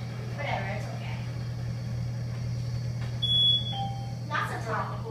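A loud electronic beep sounds from a Mowrey elevator at a Holiday Inn Express in Pensacola, Florida, a steady tone over a constant low hum with people talking around it.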